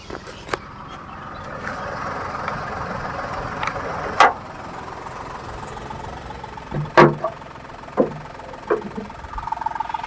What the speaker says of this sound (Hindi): कार का इंजन जो है कुछ ऐसा है अभी